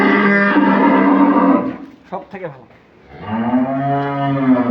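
Dairy cows at a Dinajpur cattle market moo in long, drawn-out low calls near the microphone, one at the start and another near the end, with a voice speaking briefly in between.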